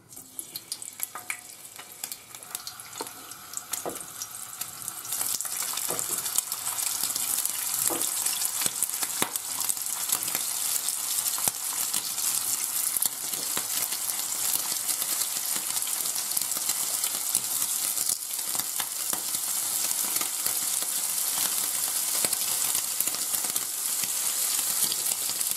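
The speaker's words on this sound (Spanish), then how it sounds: "Ya se ha calentado el aceite y ahora echamos el lacón." Cured pork shoulder (lacón) sizzling in hot oil with garlic in a pan, a steady dense crackle that swells after a few seconds and keeps up evenly, close and loud, with occasional stirring clicks.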